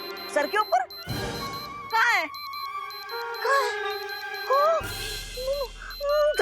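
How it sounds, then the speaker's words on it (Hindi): Children's show effects: a warning alarm beeps in a repeating electronic pattern with chiming tones, while a voice talks and quick whooshing effects cut in. "ये एक चेतावनी यंत्र की आवाज है जो तुम्हारे सिर पर बज रहा है"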